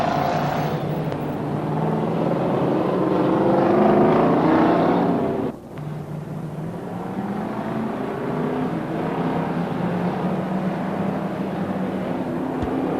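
Race cars roar around a speedway front stretch, a loud sustained engine drone that swells to a peak and then dips before another car passes, blended with wind buffeting.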